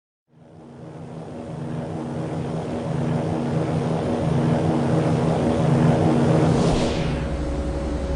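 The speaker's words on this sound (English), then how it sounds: "The Peruvian Air Force Hercules C-130B had been airborne since dawn" A Peruvian Air Force Hercules C-130B drones steadily in flight, its propeller engines giving a loud, continuous low roar that swells gently, with a faint rising whine near the end and no voices.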